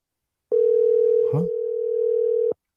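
An unanswered outgoing phone call: a single steady ringback tone lasting about two seconds, clear and close, with a brief vocal sound near its middle.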